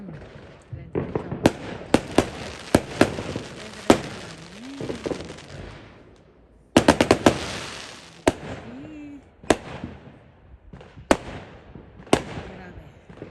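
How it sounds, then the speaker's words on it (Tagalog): New Year's Eve fireworks in the Netherlands: rapid sharp cracks and bangs in irregular clusters, some near and loud, with brief quiet gaps and voices talking between the blasts. "And still fireworks is going on."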